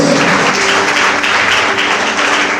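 A church congregation applauds loudly and steadily, a dense, continuous wash of many hands clapping together throughout.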